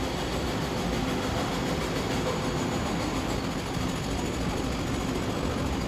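A train departs from a station in Taipei, a dense, loud, steady rumble of wheels and carriages that fills the whole stretch without a break.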